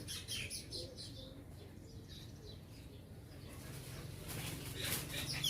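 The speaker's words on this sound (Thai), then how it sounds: "ที่นี่มีทั้งนกพิราบ นกเขา นกเอี้ยงนะคะ" Pigeons, doves and mynas chirp and coo faintly outdoors, with scattered distant tweets and a soft flutter of wings in a quiet open setting.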